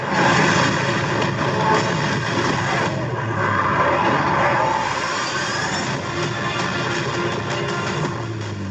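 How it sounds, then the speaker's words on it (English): Airplane engine roar in a dinosaur movie trailer, loud and sustained like a propeller aircraft passing close, filling the whole stretch without speech. "That's another plane, right?"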